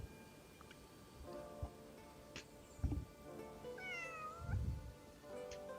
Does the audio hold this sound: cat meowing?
yes